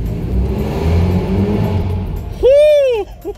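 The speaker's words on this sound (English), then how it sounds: "I love this exhaust" A Lexus IS350 F Sport engine blips through its exhaust: a low idle rumble, then one sharp rev that climbs and falls over about half a second, loud and close, with a short follow-up burst.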